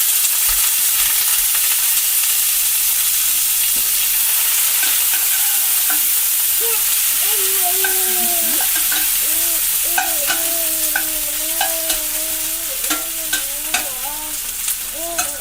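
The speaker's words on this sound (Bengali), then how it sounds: "ফ্রাইং প্যানে আমি তেল নিয়েছি প্রায় চার টেবিল চামচের মতো এখন আমি এই কাঁচামরিচ রসুন আর পেঁয়াজটা দিয়ে দিচ্ছি" Green chilies, garlic and onion drop into about four tablespoons of hot oil in a frying pan, a loud steady sizzle throughout, with spatula scrapes and a few soft tonal squeaks joining in the second half, no speech.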